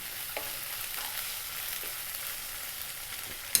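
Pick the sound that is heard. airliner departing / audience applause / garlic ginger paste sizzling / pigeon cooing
garlic ginger paste sizzling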